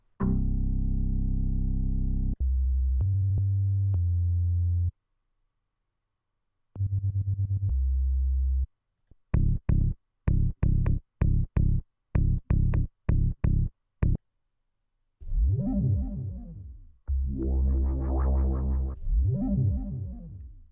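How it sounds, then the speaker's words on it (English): Synthesized bass sounds play in turn: sustained low tones, a run of short plucked notes, then warbling wobbly bass phrases, each separated by brief gaps. "let's audition some new samples by tapping that bass random button"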